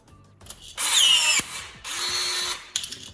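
A Gesipa AccuBird cordless rivet tool whirs in two short bursts setting a blind rivet, with a sharp snap between them, close and loud with no talking.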